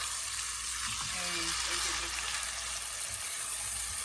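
Beef for tehari sizzles steadily in a pot of hot oil while being cooked down, a constant bright frying hiss with faint stirring underneath.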